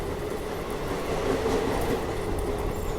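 A Sealdah-Ballia Express passenger train rumbles steadily onto the Hooghly river bridge, a continuous rolling roar with faint wheel clatter and no voices.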